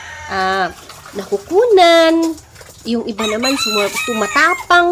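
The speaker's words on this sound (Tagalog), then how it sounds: "Pasensya na sa manok." Rooster crowing on a pig farm, sounding close and loud in a couple of drawn-out calls, mixed with a person talking nearby.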